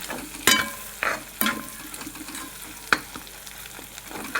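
Egg curry with chopped onion, tomato and cracked eggs frying in oil, with a steady crackling sizzle broken by sharp, rhythmic spatula scrapes and stirs, close and clear with no talk.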